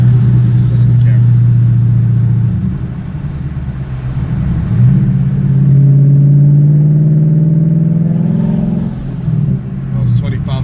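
Ford Mustang GT with a FlowMaster Outlaw catback and Scavenger X-pipe exhaust rumbling low, then revved to about 2,500 RPM in a rising, loud drone that falls back to a steady idle, heard close.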